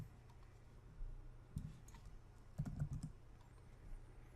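Light clicks of typing on a computer keyboard, a few short bursts of keystrokes, soft and close with a faint background hum and no talking.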